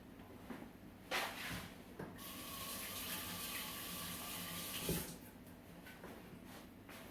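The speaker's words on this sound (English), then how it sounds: "I'm recording it, so I rinse my hands off instead" Hands rinsed under a running kitchen tap after mixing almond protein bar dough: a steady, soft rush of flowing water with a couple of light knocks at the start and end, close but fairly quiet.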